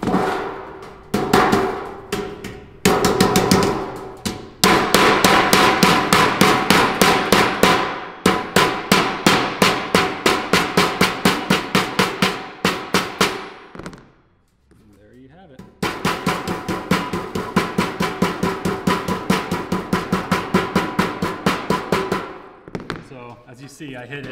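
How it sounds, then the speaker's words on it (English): The edge of a hammer strikes sheet metal while a duct transition is formed, giving fast, rhythmic metallic clangs in long bursts. One brief pause breaks the hammering, which sounds close and loud. "I hit it with the edge of the hammer"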